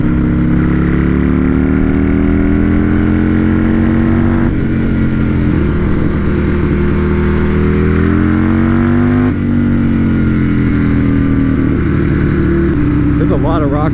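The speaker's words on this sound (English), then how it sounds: "I think 6500 is about the perfect point to shift on this bike." A Buell S1 Lightning motorcycle's V-twin engine pulls loud and steady through the revs on a road, with brief dips at the gear shifts, close to the rider, and a voice talks under the engine.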